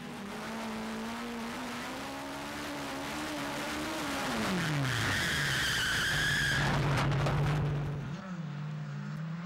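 Mitjet race car with a Yamaha 1300 engine, revving hard near the mic: a loud steady engine note that drops, then climbs to a high, raspy scream before easing off.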